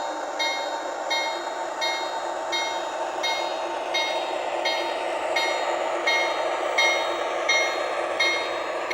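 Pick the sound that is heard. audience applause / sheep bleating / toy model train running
toy model train running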